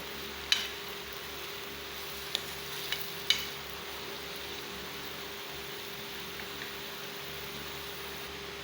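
Salted carrots cook in a pot over low heat, giving a faint, steady sizzling hiss with a few soft clicks of a utensil against the pot.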